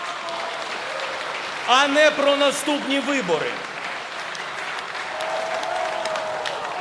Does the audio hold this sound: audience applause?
yes